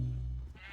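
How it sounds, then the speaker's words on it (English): Loud, close sheep bleats from the game Minecraft, a low droning baa that wavers and fades over under a second, with no talking. "I can hear a lot of sheep."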